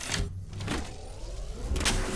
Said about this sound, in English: Recharging my shields.